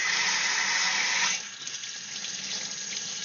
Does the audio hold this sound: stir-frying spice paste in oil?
no